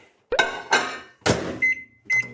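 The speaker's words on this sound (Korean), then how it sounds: "자, 얘를 30초 동안 전자레인지에 데울게요." A microwave oven is set to warm a tortilla for thirty seconds. It gives a series of close, sharp clunks and beeps: a door thunk, button presses, then a sustained tone and a final beep and clunk.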